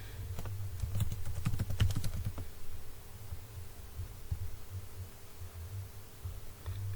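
Someone types a username on a computer keyboard in a quick burst of close clicking keystrokes, then a few isolated taps over a low steady hum, with no talking.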